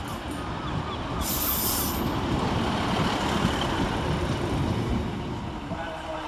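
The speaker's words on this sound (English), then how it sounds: "Arriving next to terminate with a Transport for Wales service off Cardiff Bay is 153913." A Transport for Wales class 153 diesel unit, 153913, arriving at Cardiff Queen Street station from Cardiff Bay. It produces a steady, moderately loud rumble with a brief high squeal near the start.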